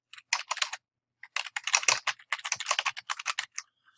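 Typing alt text on a computer keyboard: a close, clear run of rapid keystrokes in short bursts with brief pauses, no talking.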